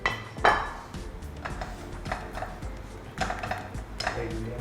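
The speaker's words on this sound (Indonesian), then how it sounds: "Saya mau ambil piring dulu di sini ya" Plates are taken and handled in a kitchen during a healthy cooking demonstration with cookware, giving sharp ceramic clinks and clatters at irregular intervals, close by, with no talking.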